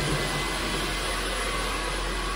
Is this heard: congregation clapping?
no